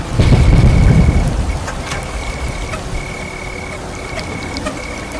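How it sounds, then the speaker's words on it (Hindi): A heavy rainstorm with a deep thunder rumble at the start, then a steady hiss of pouring rain with faint frog-like calls in the background. "बिजली कड़की, फिर झमाझम बारिश शुरू हो गई।"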